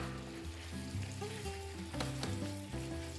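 Chicken frying in a pan sizzles steadily up close, the crackle running continuously beneath louder background music with sustained tones.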